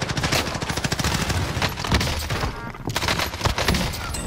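Rapid bursts of gunfire in Call of Duty Warzone during a Halloween event match, including shotgun blasts, loud and close with dense repeated shots and thumps, no voices.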